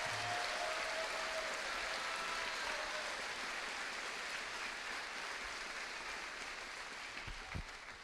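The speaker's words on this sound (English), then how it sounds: "Another huge round of applause." Distant, muffled applause from a crowd at a final school assembly, a soft continuous patter like rain that holds steady and slowly thins out over about eight seconds.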